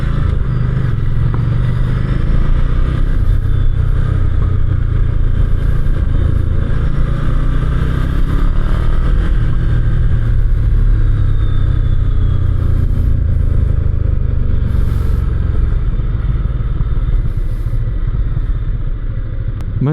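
A Ducati motorcycle at full throttle in sports mode, its engine roaring loud and close from start to finish, steady and dense, with wind rush and clatter under it and no voices.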